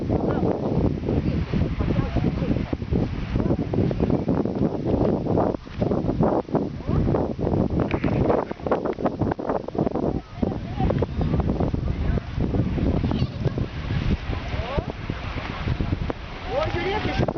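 Strong wind blows outdoors and roars steadily into the microphone for the whole stretch, with gusty buffeting and scattered voices partly buried beneath it.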